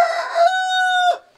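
Rooster crowing inside a henhouse, one loud close crow with a rough opening and a long sustained tone that cuts off abruptly.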